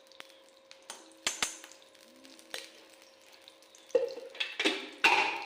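Ghee sizzles in a hot iron kadhai with sharp crackles and pops, sparse at first and growing louder and busier toward the end, close by with no talk.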